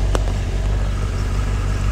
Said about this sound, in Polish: No ale ten dźwięk silnika...